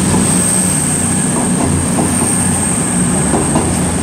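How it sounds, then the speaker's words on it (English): A CrossCountry Class 221 passenger train on the Bristol Temple Meads to Glasgow Central service rumbles loudly and continuously at Cheltenham Spa station, with steady wheel noise, faint clickety-clack and a high squeal throughout. "The 13:15 cross-country service to Glasgow Central from Bristol Temple"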